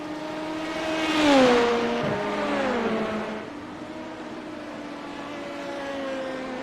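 LMP2 race car in the iRacing video game sliding out of control, its engine note rising then dipping and falling away while a tyre squeal bends downward, followed by a steady engine drone.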